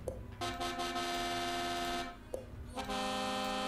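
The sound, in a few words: truck horn in a truck driving video game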